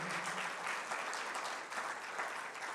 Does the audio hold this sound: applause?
yes